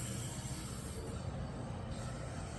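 A MARC commuter train led by an MP36 locomotive passes on the tracks, giving a steady rumbling roll with a thin high wheel squeal running through it, fairly faint and continuous.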